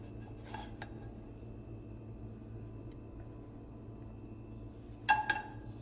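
A cheese pancake with chocolate is moved onto a plate: a quiet stretch under steady room hum, then a brief, close clatter of utensil against plate near the end.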